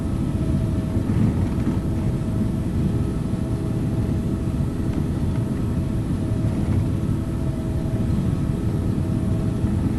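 A Boeing 777-300ER accelerates down the runway on its takeoff roll in the Infinite Flight simulator, a steady, loud low engine roar and rumble that holds without pause, with no voices.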